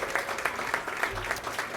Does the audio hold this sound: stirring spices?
no